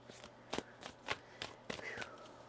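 Tarot cards being shuffled by hand during a reading, heard as several quick, close papery riffles and snaps in an irregular rhythm, fairly quiet.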